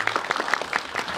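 A theater audience at a post-screening talk with the cast breaks into applause, a dense patter of many hands clapping briefly and evenly at moderate volume.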